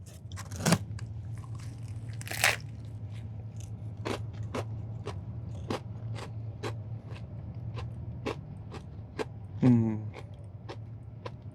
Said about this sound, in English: we're gonna get a little bit of crunch here.